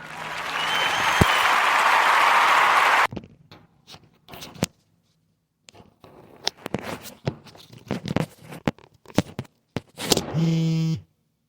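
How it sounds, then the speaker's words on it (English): A crowd gives a dense round of applause for about three seconds before it cuts off abruptly. Scattered clicks, handling noises and a low hum follow, then a brief loud burst. "a warm Narrative Podcast round of applause to our sister, Jamila Tremel"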